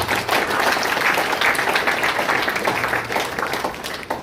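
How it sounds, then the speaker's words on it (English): Steady applause from a crowd, dense clapping filling the whole stretch at an even, fairly loud level. "A round of applause for yourself"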